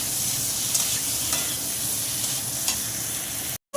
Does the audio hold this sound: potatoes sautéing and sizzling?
yes